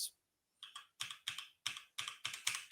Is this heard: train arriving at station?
no